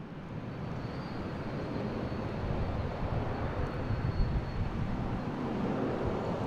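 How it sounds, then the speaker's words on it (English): A Delta Boeing 757-200 airliner takes off from Boston Logan International Airport, bound for LAX, a broad, steady jet roar heard from a distance that holds at a constant level throughout. "We got Delta taking off, heading to LAX."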